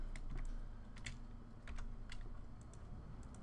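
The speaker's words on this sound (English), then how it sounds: "if I hold Alt and click," Quiet clicks of a computer keyboard and mouse while working in Photoshop, a handful of sparse, light taps spread over a few seconds against a faint steady hum.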